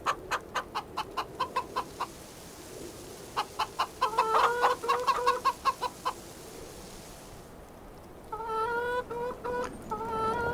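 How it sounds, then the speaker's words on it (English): Chickens in the farming video game Farming Simulator 25 cluck in quick rhythmic bursts, with repeated clusters of clear clucks separated by short pauses, fairly close and alone. "We've got chickens. We've fed them."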